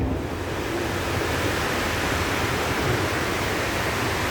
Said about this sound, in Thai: ข้างนอกฝนลงหนักเลย